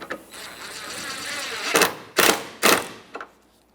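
Three quick ratcheting bursts from a hand ratchet driving the last headlight bolt on a 2014-2019 Toyota Corolla, close and fairly loud over a steady background hiss, followed by a softer tap.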